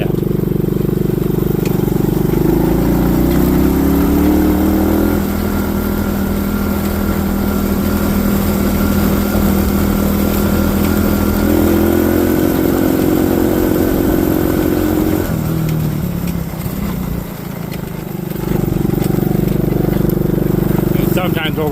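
A Mudhawk 6 off-road vehicle's engine drones loud and close while riding farm ditches, its pitch rising and falling with throttle changes, and someone talks over it.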